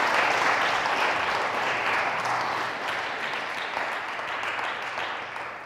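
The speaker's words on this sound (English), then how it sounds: "Can you give him a round of applause?" A live audience claps in a dense, sustained burst of applause that starts strong and tapers slightly toward the end.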